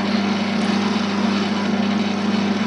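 A lathe tool taking fine cuts on a segmented pen blank, with a loud, steady motor whine and a continuous cutting hiss that holds even throughout and no speech.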